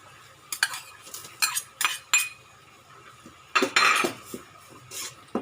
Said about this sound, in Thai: เราก็จะผัดน้ำพริกนะคะค่ะผัดน้ำพริกให้หอม